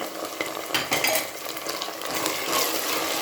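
Green chillies and peas frying in a hot pan, giving a steady bright sizzle with intermittent scraping and clinking as a spoon stirs them, close and continuous.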